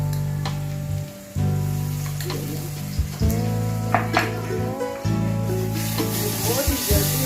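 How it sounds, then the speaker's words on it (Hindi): Ginger garlic paste hitting fried onions in a home kitchen pan for karela masala, a loud steady sizzle with brief dips and scrapes of stirring, no talk. "अब इसके अंदर मैं अदरक लहसुन ऐड कर रही"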